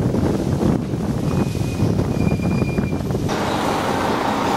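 Heavy wind buffeting the microphone over rushing sea water on the deck of a cruise ship off Miami Beach, a constant loud roar with no break.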